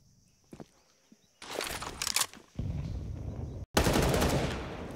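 A Counter-Strike match has rifle fire punching through a wall: a faint early shot, then dense bursts of rapid automatic gunfire that stop abruptly and quickly resume, loud and close.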